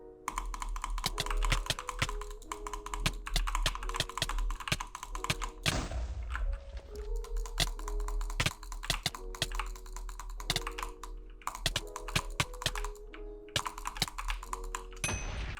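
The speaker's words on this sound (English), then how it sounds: "show you the difference between a single click butterfly and a double click" Rapid mouse clicking during Minecraft sumo duels, switching between butterfly and double-click techniques: a dense, continuous stream of fast, close clicks, steady and loud across the whole stretch with only a brief break.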